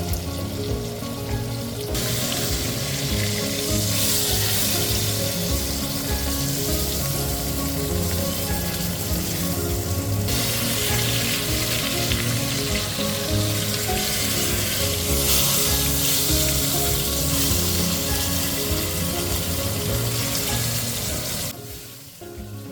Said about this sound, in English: As I was searing my chuck roast, I started my slow cooker.